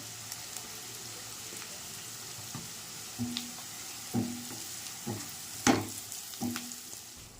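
Onions frying in a pan with salt added, a quiet, steady sizzle broken by several soft stirring knocks and scrapes spaced a second or so apart, with no voices.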